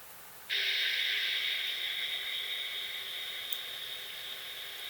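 Fine 3000 grit sandpaper rubbing red Sharpie marker off a guide on a Tascam 122mk3 cassette deck, a steady close hiss that starts abruptly and continues evenly to the end, slowly easing in loudness.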